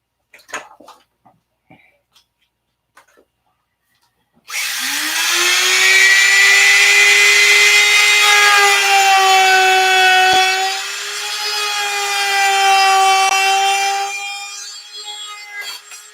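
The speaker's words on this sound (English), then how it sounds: "See, I want to grind that." A power tool grinds a workpiece, starting after a few faint clicks and knocks, then a loud, close, sustained whine that holds steady with slight pitch shifts and tapers off near the end.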